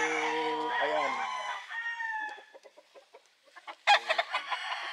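Sweater gamefowl roosters at a game farm crow loudly and up close, with long drawn-out calls followed by short clucks and another burst of crowing near the end.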